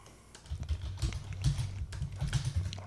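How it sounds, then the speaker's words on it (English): Rapid clicking of computer keyboards being typed on, an irregular patter of light keystrokes close by and fairly quiet, with no voices over it. "listeners can enjoy the sounds of the clickety-clack of our keyboards"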